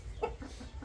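A rooster on a farm gives a brief cluck, one short burst over low rumbling background noise.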